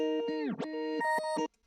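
A synthesized hyperpop sample slows abruptly in a tape stop effect, its bright harmonic tones sweeping sharply downward in pitch, then snapping back into short stabs before cutting off, dry and alone.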